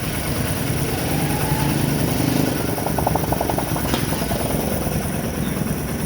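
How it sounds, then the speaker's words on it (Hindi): A 70cc motorcycle engine held at full throttle during tuning, a loud, steady, buzzing high-revving drone that stays close and continuous, with slight rhythmic fluctuations and no speech over it. "गाड़ी फुल एक्सीलेटर मार रही है।"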